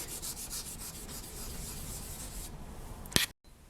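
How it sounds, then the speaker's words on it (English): A piece of paper is rubbed over a polymer clay slab in a series of soft, rhythmic scuffing strokes close by. They end with a sharper tap before a sudden silence. "Grab another piece of paper and just give it a burnish to smooth all of those pieces down together into one whole slab of clay"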